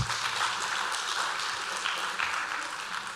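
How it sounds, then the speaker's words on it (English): An audience at a World Food Day commemoration applauds panelists with a dense, even wash of clapping that holds steady throughout. "Please let's give a round of applause to our panelists."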